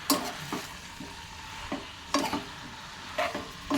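Ridge gourd chutney, Rayalaseema style, mixed by hand with green chillies, tomato, onions and coriander: a series of soft, regular scraping stirs, fairly quiet and close, with no talking.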